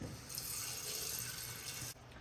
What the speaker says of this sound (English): I think I'm gonna go ahead and add some water to the vase